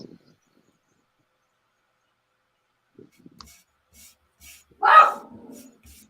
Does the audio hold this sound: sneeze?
no